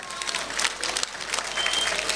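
Audience applause at a folk festival, steady dense clapping from a crowd, moderately near and continuous throughout.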